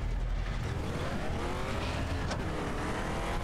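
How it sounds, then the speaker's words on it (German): Dune buggy driving in Far Cry 3: a continuous engine drone with rising and falling revs, loud and close throughout, with a brief sharp squeal partway through. "Okay, haben wir einen Buggy."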